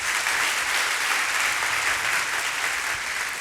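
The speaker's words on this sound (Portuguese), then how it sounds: "Pode dar uma salva de palmas para Jesus" A church congregation breaks into steady, dense applause that fills the room evenly, many hands clapping together without pause for a few seconds.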